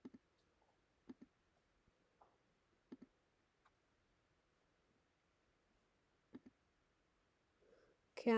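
Sparse keyboard typing on a computer, scattered clicks in small clusters separated by quiet gaps, faint and close, with a brief louder noise at the very end.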